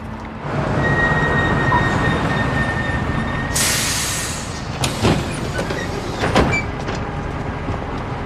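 A train rumbles steadily into a station, then a loud hiss of brakes or air bursts out, followed by a few heavy clunks and squeaks as it slows.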